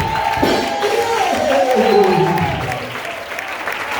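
A church congregation applauds and cheers for the Lord, a dense continuous roar of clapping and voices with a preacher's amplified voice over it, held at a steady loud level before easing slightly.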